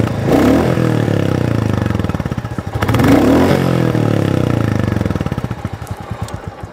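A Royal Enfield Bullet 350 single-cylinder engine is revved up twice from a thumping idle. Its loud, close beat quickens and swells with each blip, then settles back into slow, distinct thuds.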